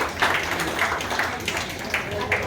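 An audience at an Akkinepally family get-together claps to honour family members, with scattered, moderately loud handclaps running briefly beneath a voice addressing the gathering.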